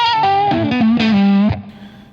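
An electric guitar through a FET distortion pedal plays a quick lick of gritty, harmonically rich notes with a bend, loud and alone, then cuts off into a short fading tail.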